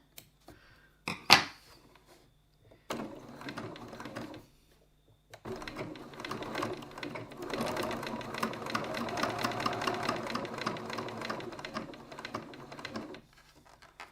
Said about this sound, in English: Now we're going to stitch 3 mils, 1/8 of an inch from the edge